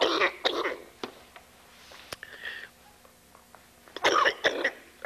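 An elderly man, a World War Two US Army veteran, gives several harsh coughs and throat clearings in close bursts, first at the start and again near the end, with quiet room sound between.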